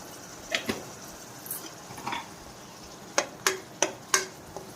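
Curry leaves, green chillies and turmeric stirred in a pan for a king fish tamarind curry: a series of sharp scraping clicks of a spoon against the pan, spaced irregularly, over a faint background hiss.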